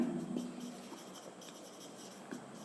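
Chalk or marker scratching on a board while working through a determinant in a maths class, a few short faint strokes close by with quiet pauses between.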